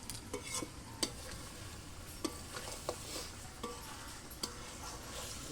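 Chicken and mutton curry with potatoes, stirred and sautéed in a pot over a wood fire: a steady low sizzle broken by sharp, irregular clinks and scrapes of a spoon against the pot, fairly quiet with no talking.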